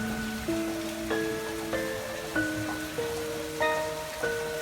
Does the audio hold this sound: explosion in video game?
no